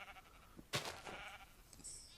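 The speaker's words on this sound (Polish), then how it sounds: "Dwie owce tak szybko?" Sheep in the Minecraft video game bleat in short, quiet calls, one sharp bleat standing out among fainter ones, with no talking.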